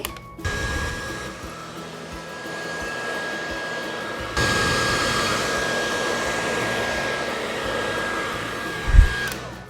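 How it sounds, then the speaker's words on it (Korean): A hair dryer blows hot air at its hottest, strongest setting while a round brush styles long hair, a loud steady whoosh that jumps in intensity midway and carries on without talk. "롤빗으로 바람을 드라이를 넣고 이렇게 눌러주면은"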